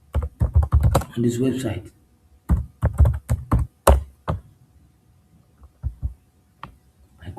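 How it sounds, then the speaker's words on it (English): Typing a product search on a computer keyboard in a digital marketing lesson, with irregular bursts of sharp key taps after a man's speech, fairly close and clear. "I go here, I type smartphone Galaxy here"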